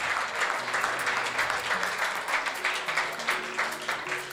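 Crowd applause at a secondary school tech challenge award ceremony for the second runner-up school, St. Paul's Academy Jos: steady sustained clapping throughout, moderately loud.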